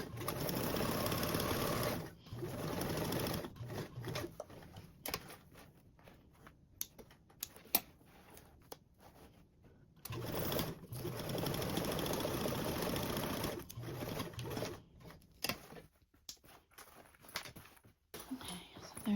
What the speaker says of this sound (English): And then you can baste along your 2 sides.